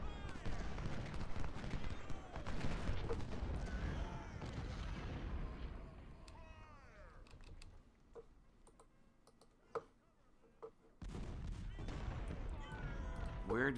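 Cannon and musket fire from the Civil War strategy game Ultimate General: Civil War, a dense rumbling barrage that fades into sparse distant shots before a renewed heavy volley, with some speech mixed in.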